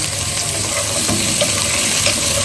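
Beans, cauliflower and potatoes fry together in a pan with a steady, close hiss and sizzle, broken by light stirring scrapes, no voices present.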